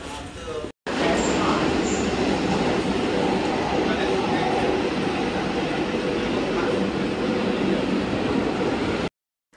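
Milano Centrale train station in Milan, Italy, with a continuous loud rail and station roar, train rumble and hiss, filling nearly the whole stretch between brief cut-outs at the start and end; faint voices sit beneath it.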